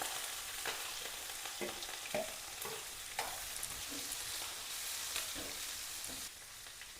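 Cumin, mustard seeds, green chilies and onion sizzling in hot oil in a pan, a steady crackling fry with scattered pops throughout, close and fairly quiet.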